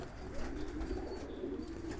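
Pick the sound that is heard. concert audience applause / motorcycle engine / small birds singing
small birds singing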